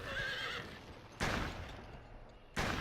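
A horse whinnies in the video game GUN, a loud wavering neigh at the start followed by sharp percussive gunshot-like bursts, with no talking.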